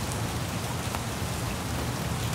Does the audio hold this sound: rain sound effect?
yes